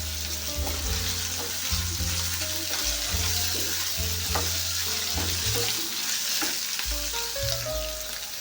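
Fresh ginger garlic paste fries in a pan for chicken thokku biryani, a dense continuous sizzle near and loud with stirring, while steady background music plays underneath.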